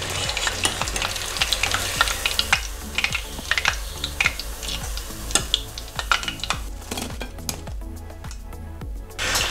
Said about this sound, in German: Dann frittieren wir die Hähnchenstücke etwa 4 bis 5 Minuten lang goldbraun.